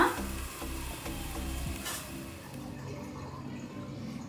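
Tomato gojju simmers in a pan on a low flame, giving a faint, steady sizzle and soft bubbling with a brief stir-like rustle near the start.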